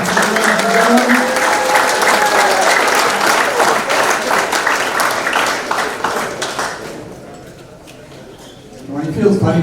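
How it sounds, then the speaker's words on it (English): A hall audience at a Hall of Fame ceremony gives loud, sustained applause that fades out near the end before a voice begins speaking. "Round of applause, Paul Thompson"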